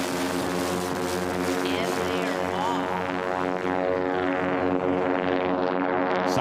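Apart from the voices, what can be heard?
sport aircraft propeller engines at a STOL drag race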